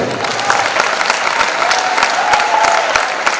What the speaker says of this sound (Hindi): मैं चाहूंगा जोरदार तालियां बजाई जाए